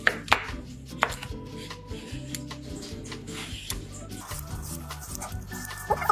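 A knife peels thick strips of skin from a daikon radish for oden, making a string of crisp, close cutting strokes that knock irregularly against a board.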